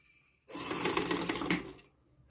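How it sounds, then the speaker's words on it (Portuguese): A sewing machine stitches a decorated dish towel in one continuous, loud mechanical run lasting about a second and a half, then stops abruptly in a quiet room. "E continuo a minha costura."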